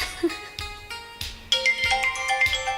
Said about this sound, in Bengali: তোমার ফোন আসছে দেখো